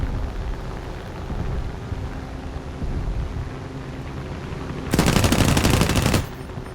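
P-36G fighter in War Thunder air arcade firing its machine guns in one loud, rapid burst of about a second, heard over a steady engine drone with no talk.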